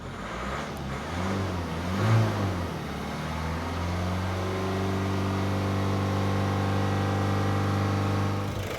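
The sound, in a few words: 2008 Ford Focus engine idling with no load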